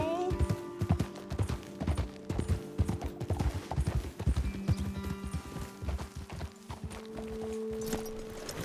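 Horses' hooves clip-clop steadily in Red Dead Redemption 2, close and fairly loud, mixed with tack rattle and game music tones, under brief talk.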